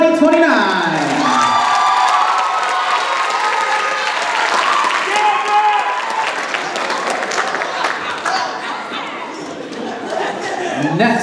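A banquet crowd at a high school marching band celebration bursts into loud applause and cheering, with whoops and shouts over dense clapping that eases slightly midway and then swells again near the end.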